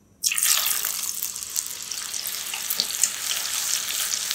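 Masoor lentils deep-frying in hot oil for nimko produce a sudden bright, steady crackling hiss that begins abruptly and continues evenly, close and fairly loud, with no talk.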